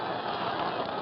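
A boxing arena crowd applauds at the end of a round in a Sonny Liston versus Bert Whitehurst heavyweight fight, a dense, steady wash of clapping with no gaps, heard briefly from an old broadcast recording.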